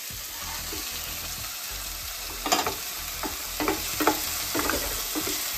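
Sweet and sour pork stir fry sizzles steadily in a pan, with a constant frying hiss broken by several sharp scraping and stirring clatters toward the end, close and without any talk.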